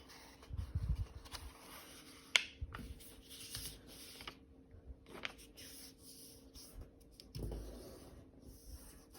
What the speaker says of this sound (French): Je la plie comme ceci.